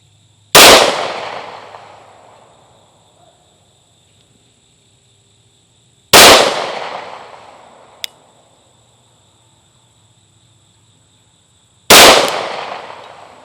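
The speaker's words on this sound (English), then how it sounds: "We're going to fire the first 3 shots top left into that target" Three separate pistol shots from a Hellcat Pro Comp crack sharply and loudly at an outdoor range, spaced several seconds apart, each with a ringing decay and a faint metallic tick between.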